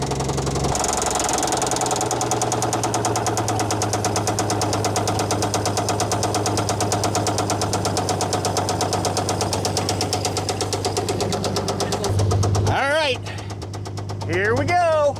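A truck engine idles steadily and loud for most of the span with a constant low drone and fine knocking pulse, then someone speaks briefly near the end over it.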